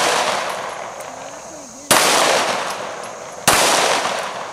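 Two loud, sharp gunshots ring out about a second and a half apart, each leaving a long, fading echo over steady outdoor noise, with no talk.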